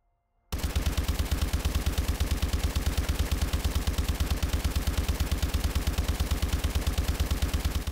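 Automatic gunfire from a weapon in Call of Duty: Advanced Warfare, a sustained rapid-fire burst of evenly spaced loud shots that starts abruptly after a brief silence and runs unbroken to the end.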